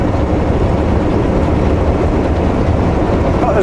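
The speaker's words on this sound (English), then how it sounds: "Oh, there's a train blasting away on the other side." A train rumbles past nearby on the far side of the road on a drive to Kitimat, British Columbia, a steady loud low roar filling the whole stretch with no break.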